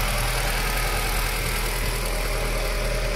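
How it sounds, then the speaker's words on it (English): The engine of a 1991 Nissan Datsun D21 4x4 crew cab utility idles smoothly and steadily, a constant close rumble with no other sounds. "That's a beautiful running engine."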